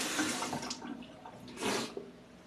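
Lukewarm tap water runs and splashes while a face is rinsed at a sink, a soft continuous wash with a louder surge of splashing near the end, close by and without talk.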